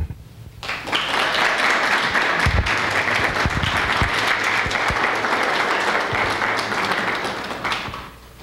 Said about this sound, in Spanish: Quiero pedirles de nuevo un gran aplauso